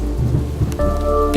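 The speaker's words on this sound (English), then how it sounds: "It sounds like there's a storm outside." Rain pours steadily during a thunderstorm, with a low rumble of thunder rolling under it. A brief tonal hum joins partway through the loud, continuous wash, and no one speaks.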